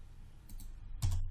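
Soft clicks of keys on a computer keyboard, with a light tap followed by a firmer Enter keypress a moment later, close and quiet with no voices.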